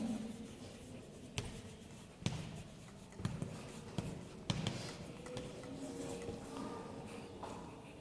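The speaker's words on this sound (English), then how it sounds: "that is I am going to write over here, guidelines for writing" Marker or chalk writing on a classroom board, a series of scratchy strokes and taps spread over several seconds with faint room noise between, no talking.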